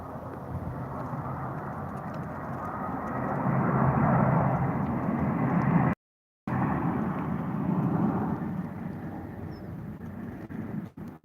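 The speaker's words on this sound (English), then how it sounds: "Look at this plane coming in." A low-flying airplane passes overhead, a broad, rumbling engine roar that swells in the middle and then fades, heard outdoors with no talk over it.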